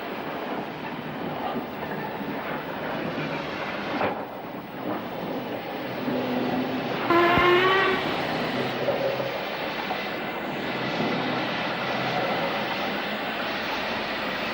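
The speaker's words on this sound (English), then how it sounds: "one of Stoke's 264 tanks is seen shunting" A steam tank locomotive shunting at Stoke-on-Trent in the 1960s, heard as a steady rumble of rolling wheels and rail noise with a brief whistle-like tone partway through, fairly loud and continuous with no talk.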